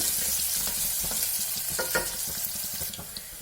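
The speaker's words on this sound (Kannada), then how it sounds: "ಕರಿಬೇವಿನ ಸೊಪ್ಪು, ಗೋಲ್ಡನ್ ಬ್ರೌನ್ ಬರಬೇಕು, ಅಷ್ಟರ ತನಕ ಫ್ರೈ ಮಾಡಬೇಕು" Curry leaves, mustard seeds and onion fry in hot oil, giving a dense, even hiss of sizzling close by, with a few faint stirring clicks and crackles scattered through it.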